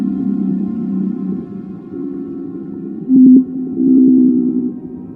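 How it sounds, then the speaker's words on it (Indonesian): A baleen whale gives long, low, moaning calls underwater, several drawn-out tonal pulses rising and falling in loudness, with no other sounds. "Vokalisasi paus balin cenderung berfrekuensi rendah dan keras."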